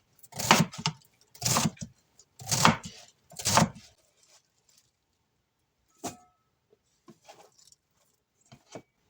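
A knife chops food on a board in four loud, evenly spaced strokes, followed by quieter scattered taps and clicks of kitchen handling.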